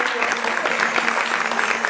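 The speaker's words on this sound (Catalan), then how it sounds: "Fort aplaudiment, sisplau, a la princesa!" An audience applauds at a magic show, a steady burst of clapping from a crowd that holds at even loudness throughout.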